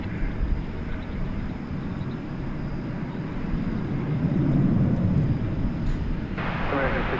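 An airplane taking off at DFW International Airport, a steady broad engine roar that swells slightly midway, heard from a distance.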